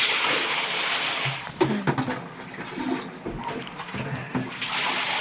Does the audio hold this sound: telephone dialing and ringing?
no